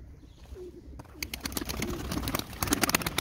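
Pigeons coo softly nearby in a coop, low repeated calls over rustling and fluttering sounds, with scattered clicks and wing flaps.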